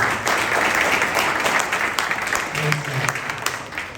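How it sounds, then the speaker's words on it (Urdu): A church congregation at a Pakistani Christian service gives steady, loud applause for a few seconds, dense clapping filling the room with a faint low voice or tone beneath it. "اس کے جلال کی ایک بار پھر زوردار تالیاں بجائیے۔"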